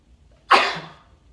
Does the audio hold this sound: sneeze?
yes